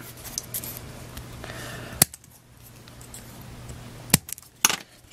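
A resistor lead being trimmed with cutters during an Xbox 360 controller rapid-fire mod: a few sharp, crisp snips close up, spaced apart against a quiet background.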